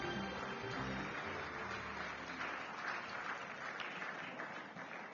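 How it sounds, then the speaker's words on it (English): Broad, steady applause from an audience at a Nigerian governance and democracy forum, a dense continuous wash that tapers slightly toward the end. "Keep the applause coming."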